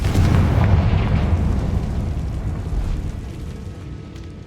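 Confringo spell explosion in Hogwarts Legacy: a loud, deep boom that hits at once and rolls into a long rumbling decay, fading gradually over several seconds.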